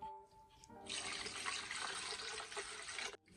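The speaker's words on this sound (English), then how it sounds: "I'm just gonna put them in this container and just add water in it." Water pours steadily into a container holding Philodendron Jose Buono plant cuttings, a close, continuous rushing splash for a few seconds before stopping abruptly.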